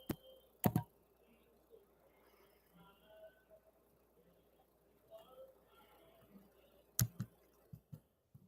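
Sparse, light clicks of typing on a computer keyboard, with a few sharp taps at the start and near the end over a quiet room, while faint speech murmurs in between.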